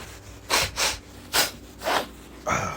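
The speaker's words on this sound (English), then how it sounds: "Man, blowing my nose." A person blows their nose in a series of short, forceful honking bursts, five in quick succession with brief pauses, close and fairly loud with no talk.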